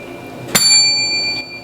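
A single bright bell ding sound effect strikes sharply, then rings on with a clear, sustained shimmering tone that fades out after about a second.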